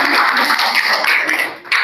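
Applause from an audience at a school presentation on positive school culture, a dense, steady patter of hands held close and fairly loud for a moment before fading slightly at the end.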